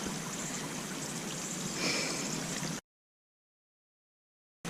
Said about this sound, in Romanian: Multă apă.